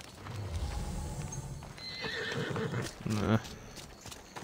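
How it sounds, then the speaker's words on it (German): In the Assassin's Creed Odyssey video game, a horse whinnies and clip-clops its hooves at close range while someone talks over the game sounds. "Ein Pferdchen haben's da."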